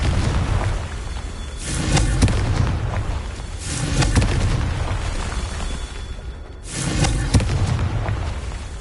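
Confringo blasting spells explode in the Hogwarts Legacy video game, three loud, rumbling bursts spaced a few seconds apart with crackling debris between them.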